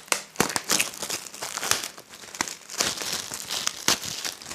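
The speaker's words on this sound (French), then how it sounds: "nous allons déballer le paquet" Crinkling and tearing of a plastic packet of scratch-off lottery tickets being unwrapped by hand, close and continuous, with rustling bursts and small pauses.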